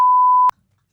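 A single censor bleep: a steady pure tone lasting about half a second that cuts off sharply and leaves near-silence behind it.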